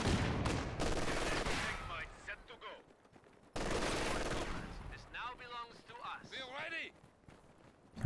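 Sniper and machine gun fire in a Company of Heroes 2 battle: repeated gunshot bursts and scattered battlefield noise run across the whole span, with a sharp break partway through, mixed with game effects and a voice talking over it.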